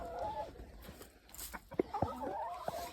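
Hens cluck softly inside a large, shaded chicken house, giving scattered short clucks and a few drawn-out calls against a quiet background.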